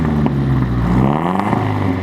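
A Hyundai Genesis car engine on a break-in tune idles and revs close by in a workshop, its pitch rising and falling with a couple of quick throttle blips in an enclosed space.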